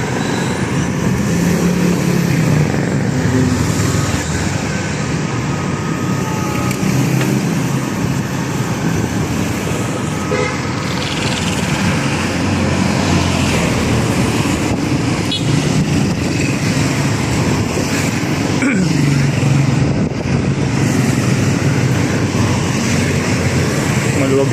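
Road traffic on Aguinaldo Highway in Imus heard from a moving vehicle, a continuous loud rumble and wind-like roar of passing cars, with a voice talking over it at times.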